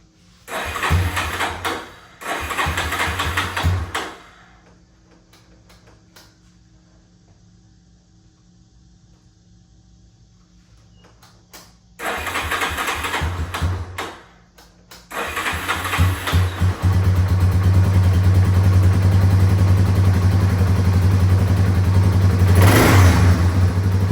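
A cleaned-up Yamaha Warrior 350 ATV engine, choked, sputters through two short start attempts with a quiet gap between them, then catches and idles loudly with revving close by.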